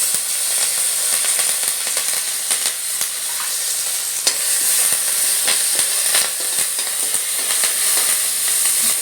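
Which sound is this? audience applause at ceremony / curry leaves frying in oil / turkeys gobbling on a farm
curry leaves frying in oil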